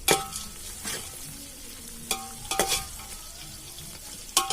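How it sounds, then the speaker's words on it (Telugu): Cashews and biryani masala fry in oil for a village-style country chicken curry, crackling with a soft sizzle while a spoon scrapes and clinks against the pan in irregular bursts, no talking. "ఇలా బిర్యానీ మసాలా, జీడిపప్పు కూడా వేసి వీటిని బాగా ఫ్రై చేసుకోవాలండి."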